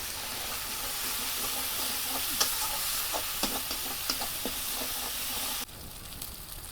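Spice paste of turmeric and chilli powder sizzling in a pan for a Bengali ghugni, a steady close hiss of frying with occasional scraping clicks of a spoon stirring, dropping slightly near the end.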